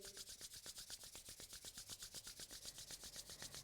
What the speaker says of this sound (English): let's rub our hands together, build up some energy